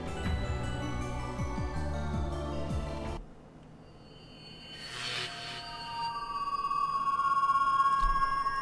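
An electromagnetic pulse effect from the Steins;Gate visual novel: a low droning rumble abruptly cuts out, followed by a swelling whoosh and a sustained high electronic tone.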